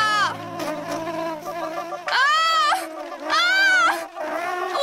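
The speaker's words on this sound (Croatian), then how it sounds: "Ubošće me ta pčela sigurno." A cartoon bee buzzes in loud, wavering swells, the nasal drone rising and falling in pitch in several long bursts.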